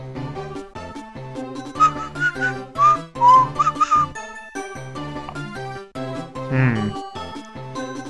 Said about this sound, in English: I can't whistle to save my life.